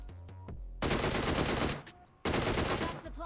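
Video game gunfire sounds in two loud sustained bursts of rapid automatic shots separated by a short pause, with a few sharp clicks just before the first burst.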